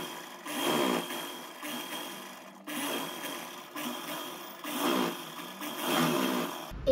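A sewing machine runs a long boot-cut seam down a heavy-size Pakistani flapper trouser, in about three steady, whirring bursts of stitching with short pauses between them, close and moderately loud.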